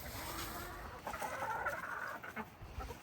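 Backyard chickens, hens clucking softly in a small flock, a few faint murmuring clucks rising midway and trailing off, low and fairly distant with no talking.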